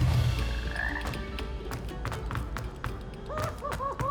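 Frog croaking in Hogwarts Legacy, a burst of close croaks near the end amid busy game noise, taps and thuds.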